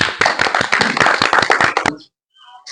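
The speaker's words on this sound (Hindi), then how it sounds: "और प्रधानाचार्य के लिए जोरदार तालियां।" Loud applause for a school principal at a school function fills the first two seconds with dense, overlapping claps, then cuts off abruptly into near silence.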